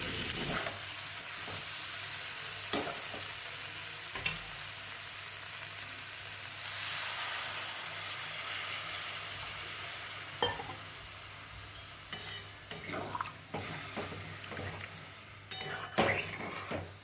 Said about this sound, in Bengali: এরপর আমি লুচিগুলো ভেজে নেব।